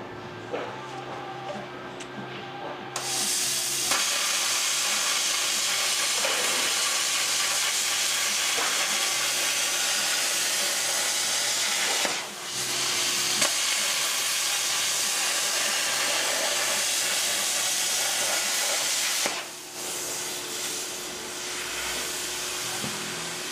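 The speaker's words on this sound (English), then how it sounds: "Use the plasma cutter. So now that we've got our pattern traced out, I'm going to go ahead and cut the petals." Plasma cutter cutting flower petals from metal sheet gives a loud, steady close-up hiss that runs for long stretches, with brief breaks between cuts.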